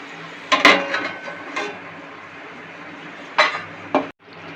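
A lid set over a cooking pot of chhana dalna with potatoes, a few metallic clanks and clinks close by, with quiet gaps between and no talking.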